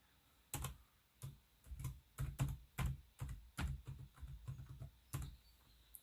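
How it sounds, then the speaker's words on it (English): Keys clack on an Asus X453M laptop keyboard as a password is typed, a close, quiet run of about fifteen distinct taps in irregular bursts with short pauses between them. "Scroll away while I type in my password in a second."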